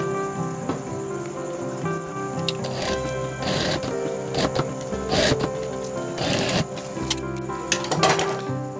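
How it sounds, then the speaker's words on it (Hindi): A sewing machine stitches velcro onto webbing for a trekking bag, with several close bursts of rapid mechanical chatter between short pauses and small handling rustles. No voice is heard. "हम पहले सिलाई कर लेंगे"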